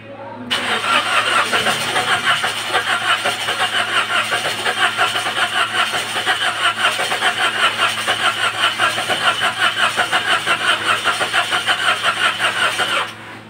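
A Toyota Wigo engine cranks on and on without catching, a loud, rapid, evenly pulsing starter whir lasting about twelve seconds before cutting off.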